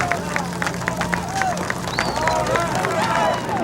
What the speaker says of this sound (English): You could hear the applause as Jessica is brought out